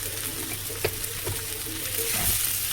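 Chopped tomato and salt sizzle steadily in a hot pan for a cabbage-and-greens masoor dal, with a few light stirring knocks breaking through the even frying hiss.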